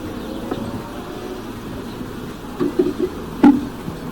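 Honey bees buzz in a steady, dense hum around a freshly opened beehive with its lids removed. A few louder bees pass close by, and several brief wooden knocks and taps sound near the end.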